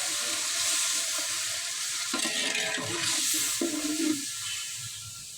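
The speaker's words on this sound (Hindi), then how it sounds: "उसके बाद जो है इसमें हमने डाल देना है जी पानी को।" Water is poured into peas cooking in a pot for white matar pulao, and a loud, continuous hiss and sizzle rises from the hot pan, with the pouring sound shifting partway through.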